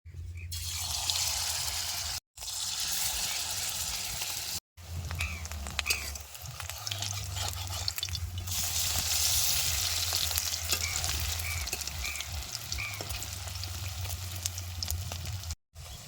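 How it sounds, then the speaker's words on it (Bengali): Egg pieces coated in rice flour batter fry in hot white oil in a kadai, a loud, continuous close sizzle with brief cutoffs and bubbling surges as pieces go in. "এক টুকরা করে ডিম এই চালের গুঁড়ির মিশ্রণে চোবায় গরম তেলে দিয়ে দেবো"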